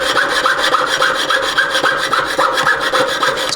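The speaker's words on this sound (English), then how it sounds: "Any kind of hacksaw blade will get through this" A junior hacksaw cuts through soft aluminium in quick, regular back-and-forth strokes, close and loud, with a rasping rhythm of roughly three strokes per second and no talk.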